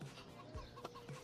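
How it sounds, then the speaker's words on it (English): Chickens on a Farming Simulator 25 farm cluck faintly in a short, quiet burst of soft, scattered calls with no talking. "And these new chickens look how happy they look."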